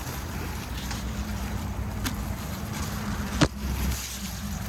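Steady wind blows across the microphone during rainy weather, a constant rushing roar with one brief sharp knock partway through.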